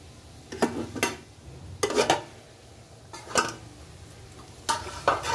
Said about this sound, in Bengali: এবার আমি ঢাকনাটা তুলছি।